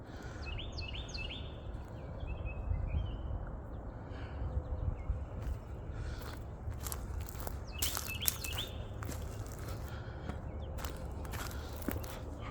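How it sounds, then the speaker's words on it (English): An outdoor bird whistles and chirps in several short high calls, mostly in the second half, over a steady background with faint footstep-like rustling. "the bird is whistling"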